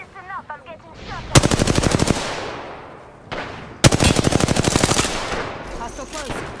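Automatic gunfire is aimed at the player in Apex Legends. Two loud, rapid bursts of closely spaced shots each last about a second and are separated by a short pause, with a brief voice heard at the start.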